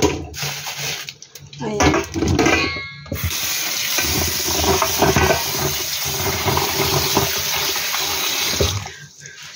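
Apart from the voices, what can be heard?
water filling a basin to soak oysters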